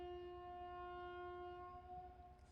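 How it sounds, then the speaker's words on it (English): The Capri ferry's horn near Positano blares one long, steady, tonal blast with strong harmonics, loud and continuous, over low rumbling noise from the water. "there is a horn honking. Well, it's the ferry."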